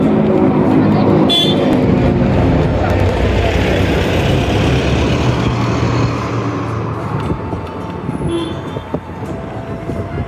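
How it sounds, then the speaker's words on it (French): Street traffic in Morocco with a car horn tooting briefly near the start, over a dense, steady wash of engines and road noise, with voices talking in the background. "Oh, du klaxon."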